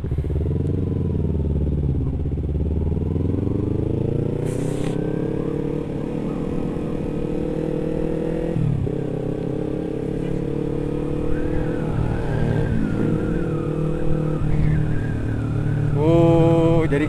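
A motorcycle engine idles and is revved with throttle blips on the road from Puncak Pass toward Cianjur, loud and close, its pitch swelling and easing over a steady rumble, with a brief clatter near the end.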